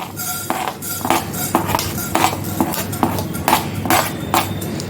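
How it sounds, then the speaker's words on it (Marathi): Coriander seeds dry roasting in a pan, stirred with a metal spoon that scrapes and clinks in a steady rhythm, close by. "आता मी पहिल्यांदा धने टाकते ते भाजून घेते"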